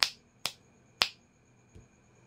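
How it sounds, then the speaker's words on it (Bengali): Three crisp, loud finger snaps spaced about half a second apart, close and dry, followed by a faint softer tap. "কিংবা চুটকি মেরে দেবেন এরকমভাবে"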